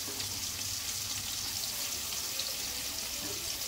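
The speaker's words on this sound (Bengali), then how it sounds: "সব একসাথে দিয়ে ভেজে নেব" Mixed spices with tomato, onion, garlic and ginger frying together in a pan, giving a steady, close hiss and sizzle without pause and with no voices.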